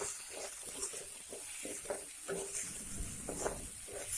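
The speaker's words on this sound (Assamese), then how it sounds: "এইখিনি সৰু বেঙেনা মই এতিয়া ভাজি আছোঁ।" Small pieces of brinjal frying in a pan make a steady, close hiss and sizzle with occasional light crackles and stirring sounds, and no voices.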